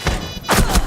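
A flashbang grenade bursts in Rainbow Six Siege: a loud, near thud followed by a broad, crackling blast that lingers briefly, with no talking over it.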